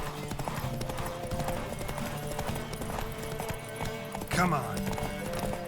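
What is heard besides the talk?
horse galloping hoofbeats in video game The Witcher 3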